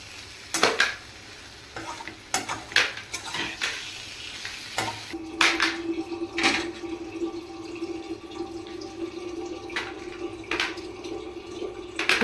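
Bitter gourd sabzi simmering on low heat in a pan, a soft continuous sizzle broken by repeated sharp scrapes and clinks of a spoon against the pan, close and without talk.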